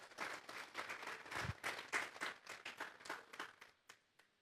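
A church congregation claps together, a rapid, fairly soft patter of many hands that holds steady, then thins to a few scattered claps and fades out near the end.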